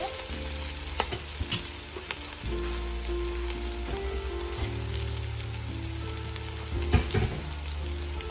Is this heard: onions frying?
yes